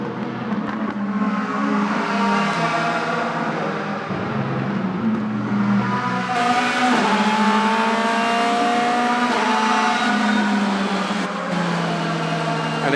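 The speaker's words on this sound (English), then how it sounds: "Timo Glock then at the back end of the car, very skittish as he braked to go through turn number 13" DTM race cars at the 2016 Moscow round qualifying, a car's engine revving loudly and steadily through gear changes with shifting pitch and some tire noise, close and continuous for the whole stretch with no talk.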